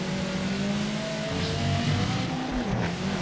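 Race car engine droning steadily in a racing video game, with tonal engine harmonics and tire noise as the car slides through a corner, loud and continuous with no talk.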